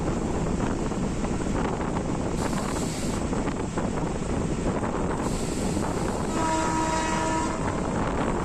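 Local train on the Howrah to Chandanpur run, a loud steady rumble and rattle of the carriages with rushing wind noise over the microphone and a brief horn-like tone near the end.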